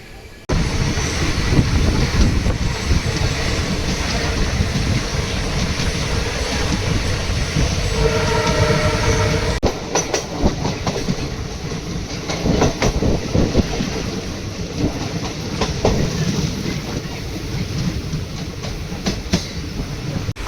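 A passenger train on a morning journey rolls along, a loud continuous rumble with clattering wheels and rail squeals throughout, heard from close by, probably from inside a carriage.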